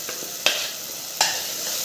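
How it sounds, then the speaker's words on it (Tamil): Onion and tomato sautéing in a pan for chicken kuruma: a steady broadband sizzle throughout, broken by two sharp stirring scrapes, close and moderately loud with no talk. "பாருங்கள், வெங்காயம் தக்காளி நல்லா வதங்கிக்கிட்டு இருக்கு."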